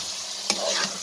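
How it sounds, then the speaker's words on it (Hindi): Garam masala stirred into a vegetable curry frying in ghee gives a brief close sizzle, with one sharp scrape of the spoon against the pan. "इसको हम कर लेंगे मिक्स"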